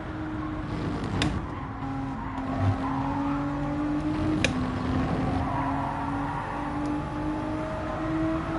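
Race car braking with tyres skidding and squealing in Gran Turismo 7, a steady engine drone with sustained tyre squeal running throughout, close and fairly loud.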